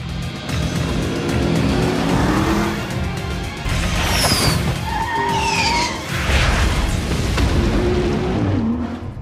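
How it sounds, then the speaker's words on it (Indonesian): A car in an action film accelerates away toward a bridge, its engine roaring loudly and close under a dense mix of rumbling effects and swelling music, with no voices. "Jensen menancap gas mobilnya keluar menuju jembatan"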